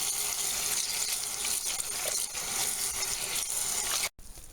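Water runs steadily from a tap into a basin used for hand-washing tights, a continuous close hiss and splash that cuts off abruptly near the end.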